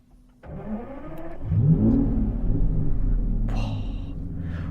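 The V12 engine of an Aston Martin Vanquish cranks and catches, then blares into a loud, close rev that settles into a deep, burbling idle.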